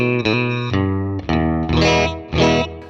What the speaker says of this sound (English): 57 Twin with the Hall maxed out